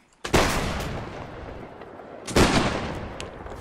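Line infantry volley fire in a video game, two heavy, booming musket volleys a couple of seconds apart, each with a long rumbling tail and no voices.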